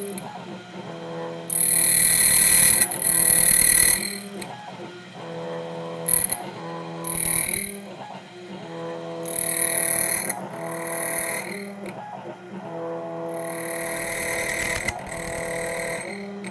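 An ITL 9700A key machine cuts a Medeco key, sending out bursts of whirring, buzzing motor and cutter noise that start and stop several times between quieter mechanical gaps.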